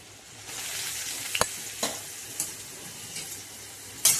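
Cooked drumstick pods and coarsely crushed garlic with a pinch of turmeric sizzle steadily in a pan over low heat, with several sharp spoon scrapes and clicks from stirring, close and moderately loud.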